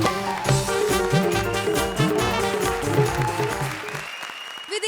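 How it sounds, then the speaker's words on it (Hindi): A studio audience at a TV comedy show claps and applauds continuously for several seconds, loud and close, over music with a strong beat, then the sound cuts off abruptly. "तालियां"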